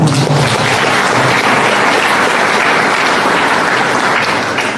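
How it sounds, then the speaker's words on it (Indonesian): Loud, dense applause from a church audience, sustained and even from start to finish with no voices standing out. "tepuk tangan untuk Tuhan"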